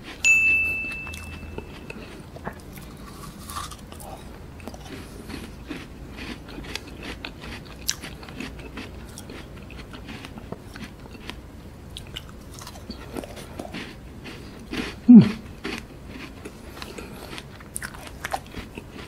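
Frozen sugar-free strawberry ice cream being bitten and chewed close up, with hard crunchy bites and steady mastication and one louder crack near the end, mostly free of talk.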